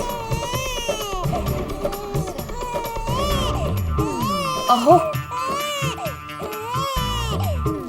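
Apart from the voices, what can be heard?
baby crying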